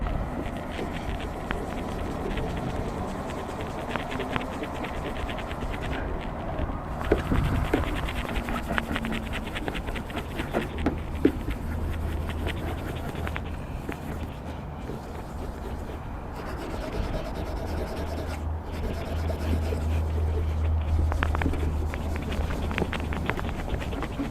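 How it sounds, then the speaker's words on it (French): Abrasive from a scratch-removal kit rubbing the painted clear coat of a car door, a continuous soft scrubbing and scratching noise, close but subdued, with faint background hum and no talking. "Donc je me munis de l'abrasif et je frotte."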